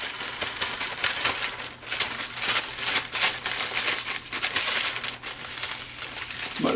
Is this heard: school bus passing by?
no